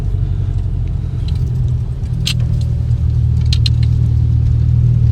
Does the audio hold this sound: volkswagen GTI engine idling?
yes